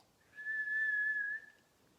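A person whistles a single loud, steady note held for just over a second, clear and alone with no talk.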